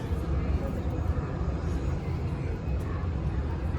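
An airplane's loud, steady engine roar dominates the clip, a continuous low rumble with a few voices faintly mixed in.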